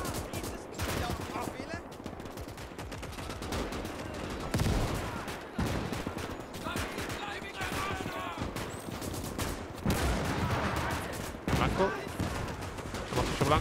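Gunfire and tank cannon blasts in a Call to Arms: Gates of Hell battle at Krasny Bor, with repeated bursts and heavy booms at moderate distance under steady battle noise, and a voice talking over parts of it.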